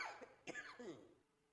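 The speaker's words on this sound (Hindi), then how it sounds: "मुझे खांसी आ रही थी" A man coughs a couple of times in a Pakistani television drama scene, two short, rough bursts close to the mic, followed by a fading breathy tail.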